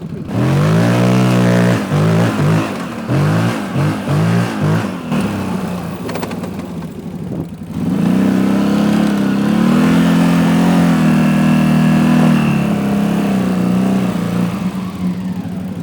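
A CFMOTO Gen 3 CForce 1000 ATV fitted with a Trail Tamer exhaust revs loudly nearby, first in a string of short rhythmic throttle blips, then in a long steady high-rpm drone that holds for several seconds.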